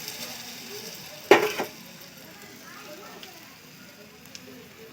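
Batter-coated kakrol (spiny gourd) slices dropped into a shallow layer of hot oil: one loud sudden sizzle burst as a piece hits the pan, quickly settling into a faint, low crackle.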